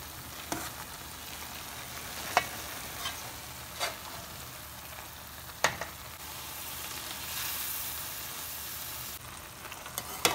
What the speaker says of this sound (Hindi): इसको पूरा घी ना में अच्छे से भूनना है और इसको पकाना है।